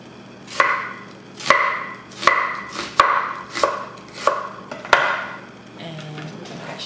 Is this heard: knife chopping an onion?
yes